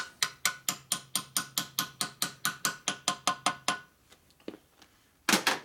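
Steady metallic tapping as a gear is lightly driven onto the crankshaft of a 1961 Harley-Davidson FL 74ci panhead motor during rebuild, about sixteen even clicks, close, then a few faint knocks and a louder final clatter.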